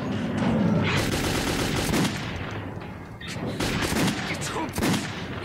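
Gunfire in Metro 2033 rattles in dense bursts, with sharp, loud shots and echoing impacts that come in uneven volleys and then swell again.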